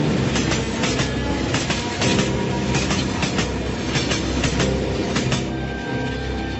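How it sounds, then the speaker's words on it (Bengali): A fast train rushes past close by, loud continuous rumble with rhythmic clickety-clack of wheels over rail joints and metallic rattling of carriages throughout. "পাশ দিয়ে খুব শব্দ করে আরেকটা ট্রেন গেল। ট্রেনটা খুব জোরে ছুটে চলছে।"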